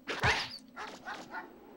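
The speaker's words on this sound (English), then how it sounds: "Oh, a dog." A dog in the video game Mega Man Legends gives one loud bark, then a few shorter yips in quick succession.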